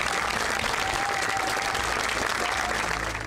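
Mourners at a burial break into loud, dense applause that stays sustained and crowded throughout, then eases slightly at the very end.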